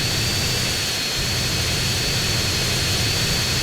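Airplane engine in GTA San Andreas, a loud steady jet-like roar with a constant high whine, droning on without a break and no voices.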